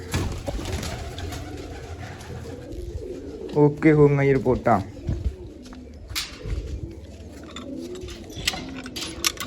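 Pigeons coo softly in a short burst of rolling, throaty calls, with people talking nearby before and after.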